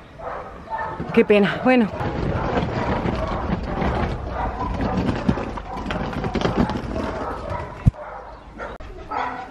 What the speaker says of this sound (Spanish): Allí hay muchos ladridos, por desgracia